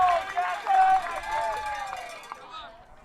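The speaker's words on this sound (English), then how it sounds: "And the crowd is fired up here" Spectators cheering and whooping at a college roundnet national championship, a lively burst of crowd noise that fades out over about three seconds, with a commentator talking over it.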